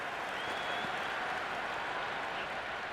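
Broad, steady stadium crowd roar from a Cricket 26 match sits at a constant level with no break, loud and diffuse like a packed ground.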